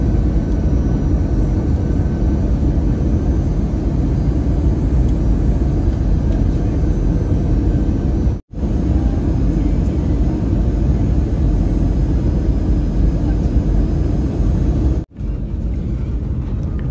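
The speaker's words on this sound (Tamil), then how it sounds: "ஃப்ளைட் லேண்ட் ஆகுது" An airliner landing in Uganda gives a loud, steady cabin roar of engine and airflow that holds throughout, broken by two very brief dropouts.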